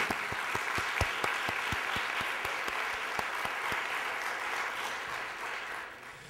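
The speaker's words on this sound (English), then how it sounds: "so we can applaud them for their achievements in their absence." An audience at a health business awards dinner ceremony breaks into applause, starting with distinct individual claps that blend into a rippling round before tapering off at the end.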